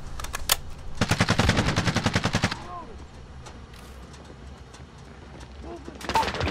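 Rapid bursts of automatic machine gun fire in the shooter game Call of Duty: Modern Warfare, a loud sustained burst followed by quieter background action and another short burst at the end, with no talk.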